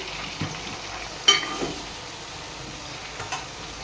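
Chicken pieces frying in a pan for gongura pickle, a faint, low sizzle with a few brief stirring clicks and one sharper scrape.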